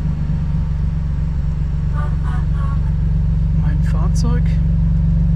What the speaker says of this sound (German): jetzt mache ich erstmal einen kurzen Zwischenstart